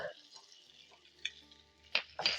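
Octopus and garlic sear in a pan with a faint, soft sizzle, broken by a few sharp clinks and scrapes of a utensil against the pan.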